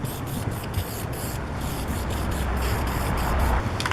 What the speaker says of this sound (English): I just show the 1 coat of spray, but I usually put on 2, maybe 3 coats.